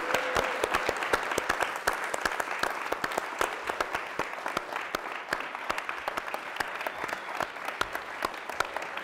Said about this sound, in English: Make some noise for Zhang Anda!